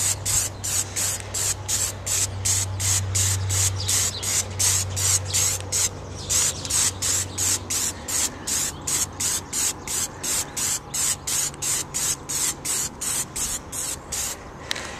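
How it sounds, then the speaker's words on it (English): Plasti Dip aerosol can sputtering and spitting paint instead of spraying evenly, a loud close series of short regular hissing bursts repeating steadily, alone with no talk. "It'll try to spit the paint out. See how it's spitting it instead of spraying?"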